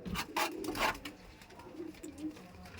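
Pigeons coo nearby in a few soft, throaty bursts, with quieter cooing continuing in the background.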